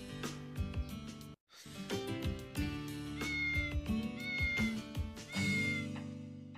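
A cat meows repeatedly in the video game Sable, with clear, close, tonal cries over a layer of game music, broken by a brief moment of silence.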